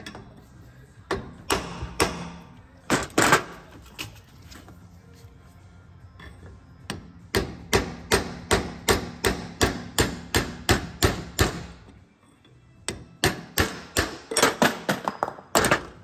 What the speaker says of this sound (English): Hammer this side.